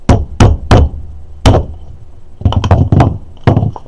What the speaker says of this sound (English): I usually put a long screwdriver through and just use my rubber mallet to pop it out